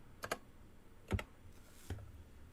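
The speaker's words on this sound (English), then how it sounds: "It's got a nice clicky sound to it, huh?" Clicky USB computer keyboard being typed on, a few sharp paired keystroke clicks spaced out over a couple of seconds, fairly close and quiet.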